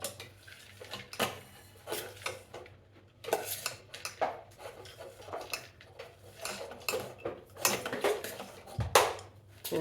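Kosambari salad being mixed in a bowl after salt and lemon juice are added, with steady clattering and scraping of utensil against the bowl in rapid, uneven strokes.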